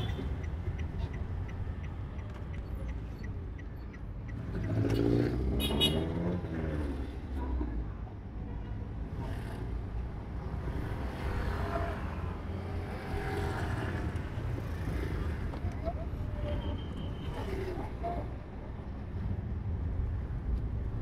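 A manual car engine crawling in second gear through slow traffic on a narrow road, a steady low rumble with wind buffeting throughout and a brief louder surge midway; no talking.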